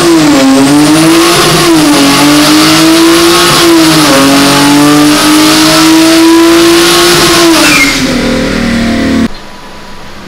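A turbocharged Toyota Mark X engine revs hard through a boost pull for about nine seconds, loud and close, its pitch rising and dipping in waves before cutting off abruptly near the end.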